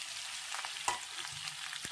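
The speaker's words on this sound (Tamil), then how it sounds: "இப்போ அதில் நான் வெட்டி வச்சுருக்க பன்னீரை சேர்த்து பொரிக்க போகிறேன்." Paneer sizzles steadily in hot butter and oil, close up, with a light scrape or stir partway through.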